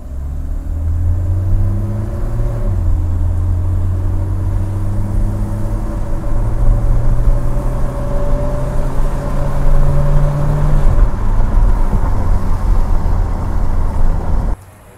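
A 1984 BMW E30 318i on the move gives a loud steady engine rumble from inside the cabin, with pitch rising and shifting through gears before cutting off abruptly at the end.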